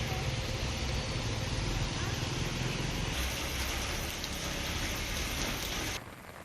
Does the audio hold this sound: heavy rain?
yes